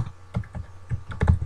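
Quick typing on a computer keyboard, a burst of about a dozen close, crisp key clicks in an uneven rhythm with no voices.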